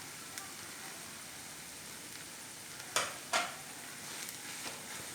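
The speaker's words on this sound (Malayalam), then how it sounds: "നന്നായിട്ട് ഇത് ഇളക്കി യോജിപ്പിക്കണം." Cooked chicken is stirred into a sizzling tomato masala in a pan for a rava (thari) chicken biryani: a soft, steady fry hiss with two distinct scraping strokes near the middle and no voices.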